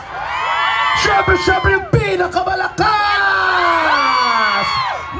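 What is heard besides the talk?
crowd cheering and shouting loudly at live show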